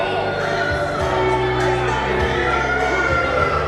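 A wrestling crowd at an independent show jeers loudly at Dr. Dan after his schoolboy roll-up win. The noise is a dense, continuous roar with a commentator talking over it.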